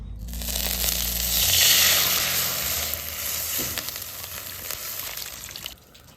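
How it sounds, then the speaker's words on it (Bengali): Water goes into a wok to make sugar syrup, a loud rushing hiss and sizzle that swells, then slowly settles over a low background hum. "কড়ার মধ্যে শিরা বানানোর লেগে জল দিয়ে দিন"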